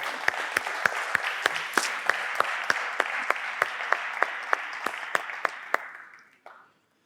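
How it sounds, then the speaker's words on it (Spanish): Audience applause ringing out at a talk, a dense steady clapping with sharp, regularly spaced claps cutting through, fairly loud and near, then fading out and stopping near the end. "Así que este aplauso para todos vosotros."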